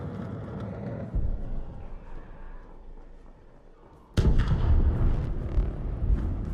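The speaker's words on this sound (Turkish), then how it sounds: "Patlama sesine." Low, muffled rumbling gives way to a sudden loud explosion in the video game ARC Raiders, a sharp blast followed by a dense roar and crackling debris.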